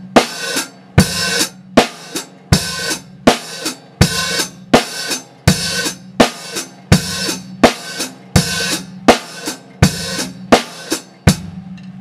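Beginner drum groove played on a kit: bass drum and snare alternate on the beats, and the open hi-hat splashes with them before closing on the off-beats. The loud, even rhythm repeats steadily and plays alone.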